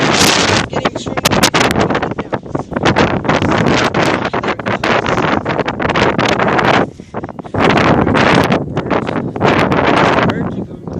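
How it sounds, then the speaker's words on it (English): Strong wind batters the microphone outdoors in loud, continuous roaring gusts, briefly dropping away near the seventh second before surging back just as hard. "So yes, guys, it is extremely windy."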